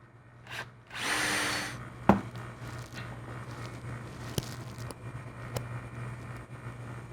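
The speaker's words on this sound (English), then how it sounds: "So it's as simple as this, drilling a hole." A power drill whirs in a short burst lasting about a second while drilling a hole in wood, followed by a sharp knock and a low steady hum with quiet clicks.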